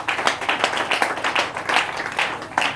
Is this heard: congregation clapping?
yes